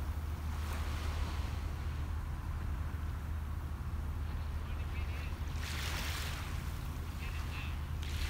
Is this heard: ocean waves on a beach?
yes